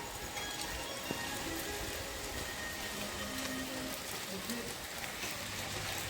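Steady rain patters continuously on a surface, a soft even hiss with faint voices murmuring in the background.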